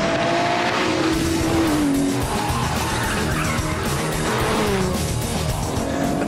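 Aston Martin DBS driven hard around a handling circuit, its engine roaring loud and constant with rising revs while the tyres squeal through left-right corners, close and unbroken for the whole stretch.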